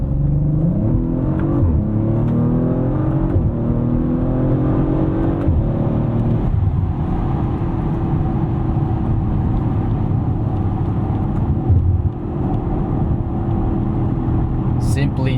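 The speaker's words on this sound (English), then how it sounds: "Let's do one more acceleration highway pull" A 2021 Audi RS5 Coupe accelerates hard on a highway at night, its engine climbing in pitch through the gears, with loud road and wind rumble inside the cabin as someone talks over it.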